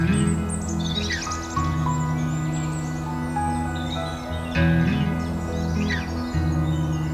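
Sand martins flying over a lake at a nature reserve give repeated thin, high twittering calls in scattered bursts, heard above a steady low rumble of background noise.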